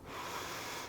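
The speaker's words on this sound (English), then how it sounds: "Last breath, inhale and exhale." A single breath during a yoga vinyasa flow: one close, airy exhale of about a second, steady and alone.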